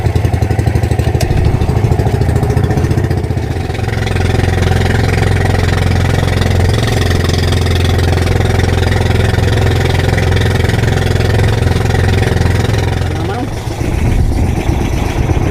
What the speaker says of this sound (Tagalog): Ibang tunog ka ating makina.